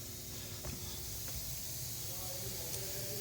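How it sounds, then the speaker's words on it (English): Compressed air blows debris out of a spark plug well on a Lexus IS250 engine, a soft continuous hiss at close range with a couple of faint clicks. "I blow a little bit of compressed air in there to get rid of the debris"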